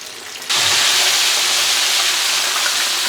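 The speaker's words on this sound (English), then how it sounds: "we're going to fry them for about 6 or 7 minutes the first time" Chicken wings for Korean hot wings deep frying in hot oil, a loud, steady broadband hiss and bubbling roar that starts abruptly half a second in and stays constant and close.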